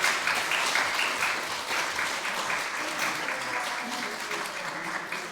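Sustained applause from an audience at a Korean commemorative ceremony for Korean War veterans in Pohang, following a cadet arts performance, steady and dense throughout with no pause.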